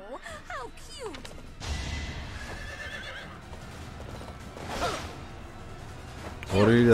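Neighing horse and galloping hooves from Fire Emblem: Three Houses, whinnies and hoof clatter with swooshes and a crash amid game music, plus a brief voice.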